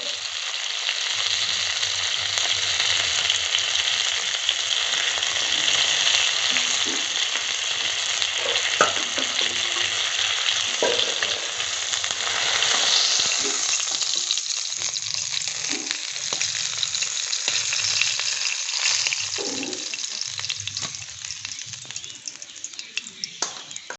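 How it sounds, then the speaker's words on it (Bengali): Tilapia fish fries in hot oil, a continuous close sizzle and crackle lasting throughout, with occasional light clinks and stirring sounds underneath. "মাছ ভাজা হয়ে গেছে"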